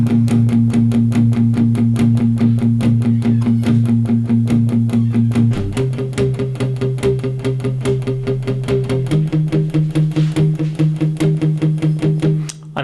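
Guitar with a capo playing a repeated first-verse pattern, steady picked notes in an even pulse over sustained low tones that shift chord twice, loud and close with no talk.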